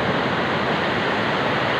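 Heavy surf at Dagara sea beach, a steady loud broadband wash of breaking waves with no break across the whole stretch, close and alone.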